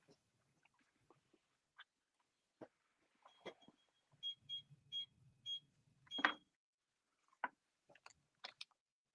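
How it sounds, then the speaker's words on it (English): A faint electronic device in a room beeps about five times in an even rhythm, thin and high, among soft clicks and shuffling nearby. "Sorry, I got to figure out what the hell this beeping is. It's driving me crazy."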